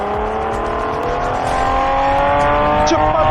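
A car accelerates hard and pulls away fast, its loud revving engine rising steadily in pitch over a continuous rumble of tyres, with no talk over it.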